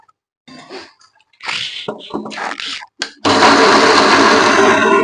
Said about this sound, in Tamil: இப்போ நவதானியத்தை நம்ம ரெண்டு பேச்சாக போட்டு அரைச்சி எடுத்துக்கலாம் நல்லா மையாக அரைச்சி எடுத்துக்கணுங்க இப்போ இதை அரைச்சிக்கலாம்